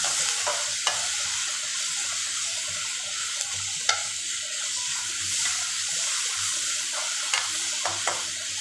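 Tomatoes being mashed in a sizzling pan while making poori masala, a steady frying hiss with soft scraping and stirring sounds and occasional small clicks of the utensil, close by and without speech.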